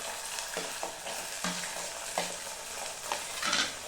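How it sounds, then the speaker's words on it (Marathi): Carrots and capsicum frying in oil with peanuts and peas for masale bhaat, a bright steady sizzle punctuated by several sharp spatula strokes against the pan, close up and without speech. "शिमला मिरची आणि हे पण तेलावर चांगलं फ्राय करून घ्यायचं"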